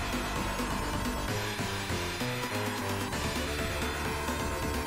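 Harsh, buzzy distorted guitar music from the Sega Mega Drive game Eliminate Down plays loud and continuous with a driving rhythm, dense and unbroken throughout, with no voices over it.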